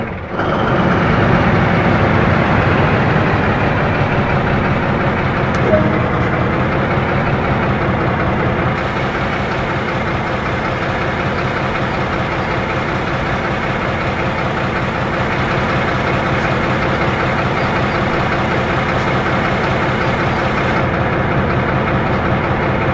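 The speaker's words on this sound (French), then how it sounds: "La locomotive est maintenant prête à être démarrée. Cela se fait en utilisant l'interrupteur de démarrage du moteur." A BR204 diesel locomotive engine in Train Sim World 2020 starts up and settles into a loud, steady, heavy rumble that drones on unbroken, with no voices.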